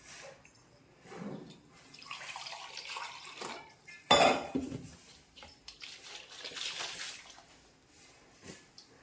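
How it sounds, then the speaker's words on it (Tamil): Water splashes and clatters into a metal pot while making rasam, with clinks of utensils and a louder pour midway, steady and close. "இன்னும் கொஞ்சம் நான் தண்ணி ஊற்றேன்"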